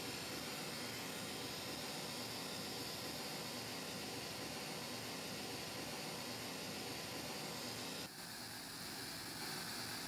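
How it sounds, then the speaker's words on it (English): Steady broadband hiss of left-channel-only pink noise playing continuously through an Apple HomePod 2nd generation or Ultimate Ears Mega Blast speaker, shifting slightly in tone near the end. "We tried playing a left driver only pink noise audio file on both the HomePod 2"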